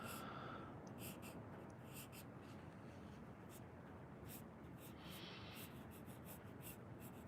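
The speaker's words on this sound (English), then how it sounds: "the thick and thinner lines, lighter and darker lines as well with this pencil" A pencil draws lines on paper, a quiet, steady scratching close by with short strokes and light taps throughout.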